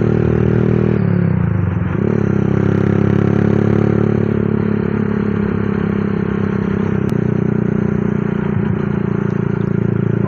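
Honda CB Tiger 200cc motorcycle with an aftermarket Dos exhaust, riding with a loud, steady engine drone and deep exhaust rumble that shifts slightly in pitch, heavy wind and road rush throughout, no talk.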